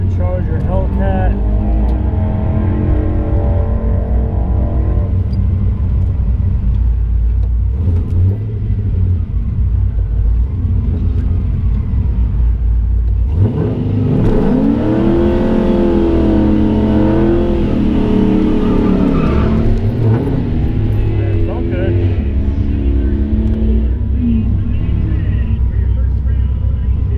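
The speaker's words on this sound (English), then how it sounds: "So run number 2, going against the Charger Hellcat." Car launching on a drag track against a Dodge Charger Hellcat, a loud continuous engine roar with rising revs and wavering pitch through the middle of the run, heard from inside the car.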